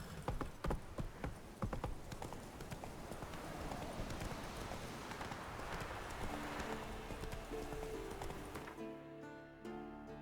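Roach, a horse in a video game, clip-clops steadily on hard ground, its hoof strikes close and loud, continuing nearly the whole time before fading near the end.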